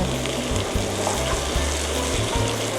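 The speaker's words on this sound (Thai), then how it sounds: "แล้วก็ใส่เนื้อสันคอลงไปนะคะ นี้ก็ผัดนะคะให้เข้ากัน" Pork neck meat is stir-fried in a pan, a dense, continuous close sizzle with repeated scraping strokes of the spatula.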